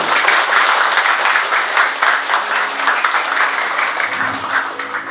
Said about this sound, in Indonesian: Tepuk tangan dari semuanya.